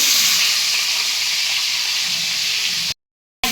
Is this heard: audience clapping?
no